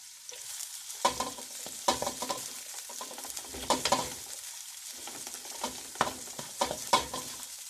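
Sliced onion sizzles softly in a pan while being stir-fried for Chinese-style cabbage with chicken, with irregular scraping and tapping of the utensil against the pan over the gentle frying hiss.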